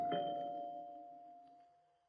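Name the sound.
doorbell ringing in old time radio drama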